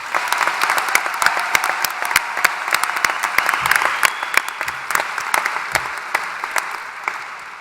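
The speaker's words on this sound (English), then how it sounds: "Can we take a moment for a round of applause for the graduating class of 2021?" Graduation audience applauding the 2021 graduating class at a high school ceremony, a steady dense round of clapping from a large crowd, moderately distant and sustained without talk.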